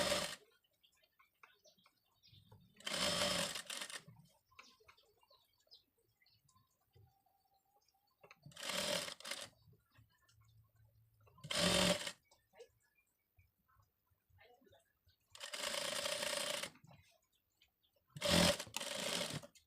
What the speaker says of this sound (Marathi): पीसचा कपडा आपण कटिंग करून ठेवलेला आहे त्यावरती स्टिच करून घेऊ